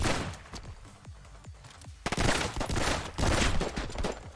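Rapid gunfire from assault rifles, submachine guns or shotguns in the top-down shooter video game Intravenous: a few spaced shots, then dense loud bursts of automatic fire, close and without talk.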